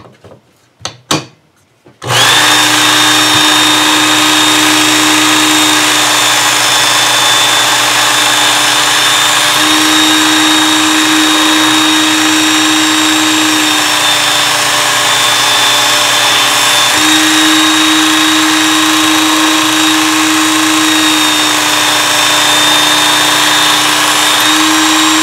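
A knife is ground on the X22 belt of a belt sharpener: after a few clicks, a loud motorized whir with a steady high whine runs continuously, its pitch shifting slightly as the blade passes.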